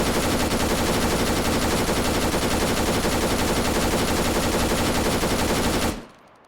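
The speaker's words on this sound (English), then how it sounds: "I'm going to go ahead and give you all a little taste of what this LMG sounds like" A light machine gun in the ARMA 3 video game fires one unbroken, very loud burst of rapid automatic shots lasting about six seconds before cutting off abruptly.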